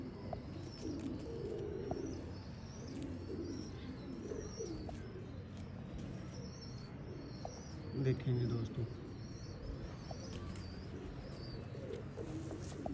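Zeera breeder pigeons coo in a loft, with soft, steady low cooing running throughout under someone talking, plus some faint higher chirps and a louder burst of cooing near the middle.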